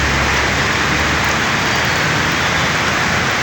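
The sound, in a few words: heavy rain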